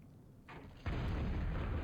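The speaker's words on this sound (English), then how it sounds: "I think we've reached the age of long-range plasma cannon combat" Long-range plasma cannon artillery fire in a strategy video game: a quieter rumble, then a loud sustained booming blast that holds steady to the end, with no talk over it.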